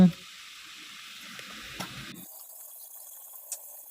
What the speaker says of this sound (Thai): ใช้ใบมะกรูด แล้วก็ผัดให้เข้ากัน